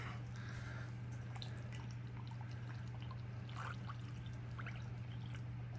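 Water poured into a 2022 MCW Menu 2 meal kit pouch for spicy oriental chicken with rice, a steady close trickle over a constant low hum, with no talk.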